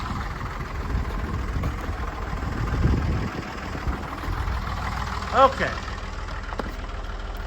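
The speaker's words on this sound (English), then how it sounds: "we'll get the tractor warmed up" A farm tractor engine idles steadily on a cold November day as it warms up for corn harvest, a low continuous rumble with a brief squeal partway through and a short spoken word over it.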